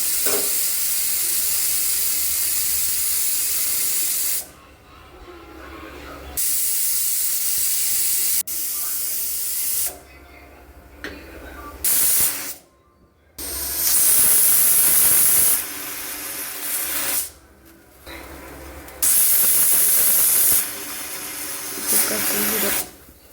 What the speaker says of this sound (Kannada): ಮುಚ್ಚಳ ಮುಚ್ಚಿ ಮಿನಿಮಮ್ ಅಂದರೆ ಒಂದು 7ರಿಂದ 8 ವಿಸಿಲ್ ಕೂಗಿಸ್ಕೊಳ್ಳೋಣ